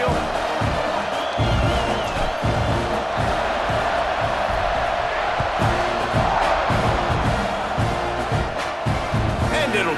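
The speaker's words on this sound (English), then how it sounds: "Do you think this crowd's going to get loud when their defense comes on the field?" Loud, continuous roar of a packed stadium crowd at a Texas A&M football game, with whoops and cheering swelling throughout as the defense takes the field for a kickoff.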